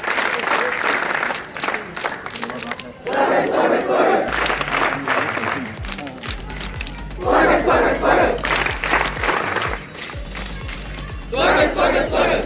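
A gathering at a scout and guide event in Jaunpur claps in welcome, a loud sustained wave of applause and crowd noise with bursts of shouting and a low rhythmic thumping underneath, swelling and easing in turns.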